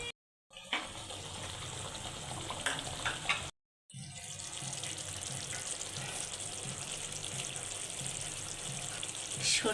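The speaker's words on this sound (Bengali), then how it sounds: "ঝোলটা ফুটে উঠেছে" Hilsa pieces cooking in a boiling mustard gravy, a steady bubbling and sizzling with watery hiss that runs throughout, broken by a brief dropout near the start and another just before four seconds.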